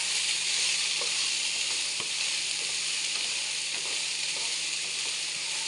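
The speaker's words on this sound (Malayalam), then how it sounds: "ഇളക്കി കൊടുക്കാം നമുക്ക്." Ivy gourd thoran frying in a pan, a dense, even, loud sizzle throughout with a few faint taps from stirring.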